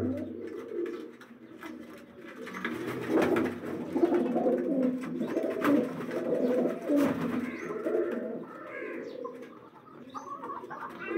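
Pure Daku breed pigeons coo steadily in a low-flyer breeding setup, a continuous layered murmur of several birds close by, with no voices over it.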